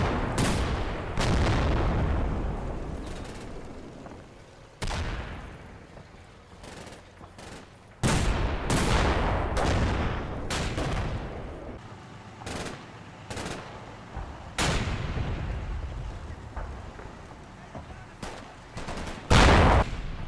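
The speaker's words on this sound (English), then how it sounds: "the other 2 tanks pound buildings with HE shells to suppress any machine guns or anti-tank rifles" Tank cannons fire HE shells at buildings in the Combat Mission Red Thunder war game, a string of sharp booming blasts at irregular intervals with rattling gunfire between them.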